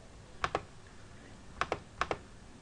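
Computer keys are tapped in three short bursts, each a quick pair of crisp clicks, close and fairly quiet against a faint background hiss.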